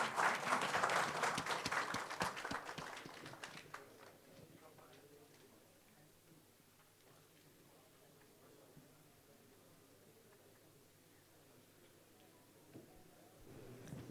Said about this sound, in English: Can we have a huge round of applause for our next winners